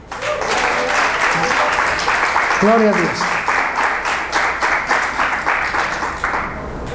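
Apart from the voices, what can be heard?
church congregation applause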